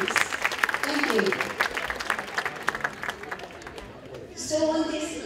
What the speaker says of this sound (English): give a good round of applause to them, please